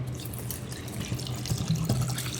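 Water pours and splashes into a pot of goat trotter paya (mutton leg curry), a continuous gurgling stream with small bubbling surges near the end.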